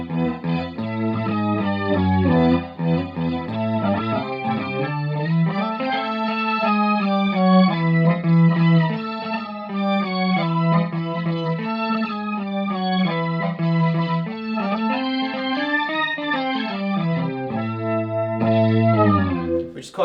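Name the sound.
Mooer Mooergan organ simulator pedal, funky bass organ riff on guitar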